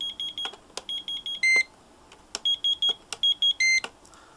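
Rapid electronic beeps from a radio controller in short repeated bursts, with a few longer higher tones mixed in, loud and close with no talking.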